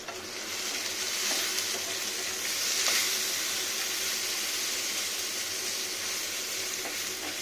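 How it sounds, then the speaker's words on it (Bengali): Rohu fish frying steadily in hot oil with turmeric and salt, a constant close sizzle with light stirring scrapes, no talk. "খুব সুন্দর করে ভাজতে হবে"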